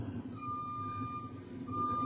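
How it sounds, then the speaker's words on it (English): A large fire truck's reversing alarm beeps out a thin, high tone a short way off, above a low rumble of engine and street noise. "that fire truck right there just got there"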